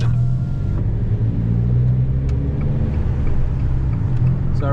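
A big V8 car driving through town, its deep, steady low engine rumble staying loud and close throughout with no voices.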